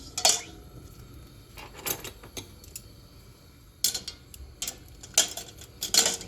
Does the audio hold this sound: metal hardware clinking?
yes